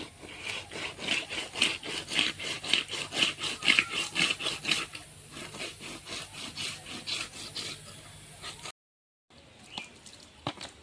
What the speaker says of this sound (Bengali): এই দেখুন মাছটাকে ভালো করে ঘষে ঘষে ধুয়ে নিয়েছি